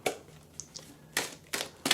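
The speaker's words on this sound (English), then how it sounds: "We're going to shuffle." Oracle cards from the Oracle of the Unicorns deck being shuffled during a tarot reading, several short crisp riffling bursts spaced apart, close and fairly loud with no talk.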